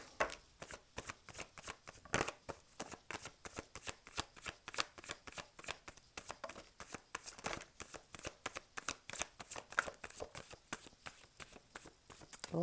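Tarot cards being shuffled over and over, a dense run of quick papery riffles and flicks that keeps going steadily from start to finish, close and fairly quiet, with no talking.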